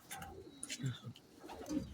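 Racing pigeons cooing in soft, low murmuring bursts, with a few brief higher chirps mixed in, close and fairly quiet, while a person talks intermittently nearby.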